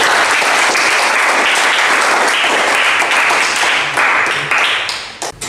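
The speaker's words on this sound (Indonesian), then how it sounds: "Tepuk tangan untuk kelompok 1" A classroom of automotive engineering teacher trainees claps for a group presentation, giving loud, steady applause close by that thins out and trails off in the final second.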